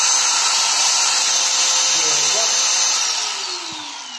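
A 650-watt angle grinder being test-run, giving a loud, steady high-pitched whine that holds for about three seconds and then begins to wind down, with a faint voice in the background.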